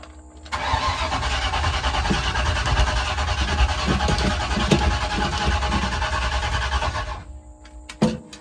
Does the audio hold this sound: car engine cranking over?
yes